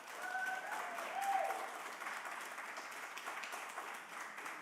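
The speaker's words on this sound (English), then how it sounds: "If the applause continues, I will call a recess." Applause rises from the audience at a city council meeting in Burlington, a steady, fairly faint patter of many hands heard from across the room with no talk over it, a brief voice-like tone near the start.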